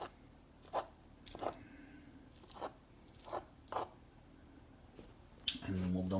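Broccoli being chopped with a knife on a cutting board in a home kitchen, a series of about six separate crunchy cuts spaced roughly a second apart, followed by a louder clattering scrape at the end.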